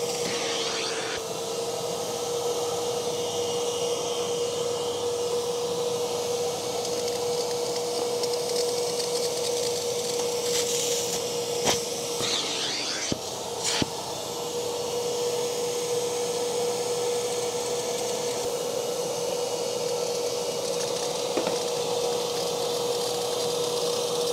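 A vacuum cleaner runs over a washed, soaped carpet with a steady, loud motor whine throughout, broken by a few brief clunks and bumps, with no talking.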